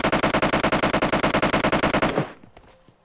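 An Uzi submachine gun in a video game fires one long, rapid, evenly spaced burst, loud and close, then cuts off into near silence with a few faint clicks.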